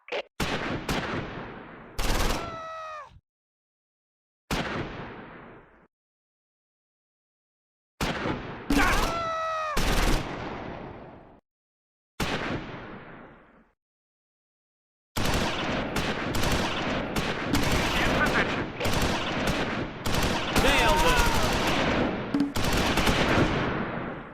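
Machine gun and rifle fire from a World War II battle at Esch-sur-Sûre in Close Combat 4, heard as short bursts separated by gaps and then a long, dense stretch of continuous rattling gunfire.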